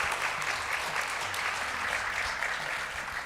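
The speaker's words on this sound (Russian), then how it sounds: "Аплодисменты Александру." Applause for Alexander at a company's annual year-end meeting, a steady dense wash of clapping from a large audience that holds at an even level throughout, with low murmuring beneath it.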